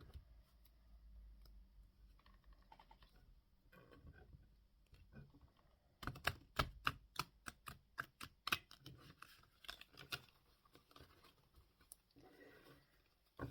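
Sacred geometry cards being shuffled by hand on a tablecloth, a quick run of crisp riffling flicks and taps in the middle, quieter handling before and after, close and alone.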